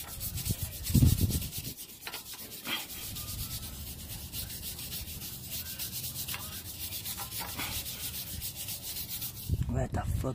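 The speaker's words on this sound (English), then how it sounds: "So right now I'm gonna just sand it down" Steady scraping and rubbing as a painted car brake caliper is sanded down by hand, continuous and close for most of the stretch with a few sharper strokes near the start and end.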